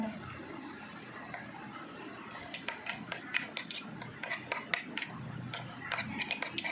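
A spoon stirs milk into a homemade face pack paste in a bowl, making quiet, close, rapid clinks and scrapes in an uneven rhythm that grows busier as the mixing goes on.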